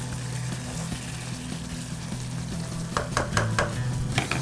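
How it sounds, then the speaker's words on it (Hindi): Tomatoes stirred into a pan while making prawn biryani, a steady low sizzle with scraping stir strokes growing busier toward the end, close and moderately loud, no talking. "ये आपने टमाटर डाल देने हैं इस तरह से, और अब हम इसको मिक्स करेंगे"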